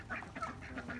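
Ducks and hens calling in a small backyard flock, a quick series of soft honking, quacking calls repeating roughly every few tenths of a second, faint and close with no talk.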